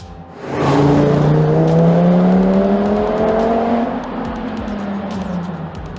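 An Audi TT RS with its 2.5-litre five-cylinder engine, rated at 340 to 360 horsepower, revs up loud and close, its rising howl climbing steadily before easing off into a lower steady drone.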